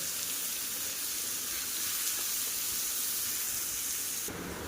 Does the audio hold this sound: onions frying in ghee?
yes